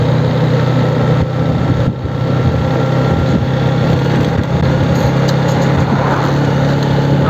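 Steady droning engine of an RC 125 motorcycle while riding, loud and close with a constant low hum and road rumble, almost unchanging throughout.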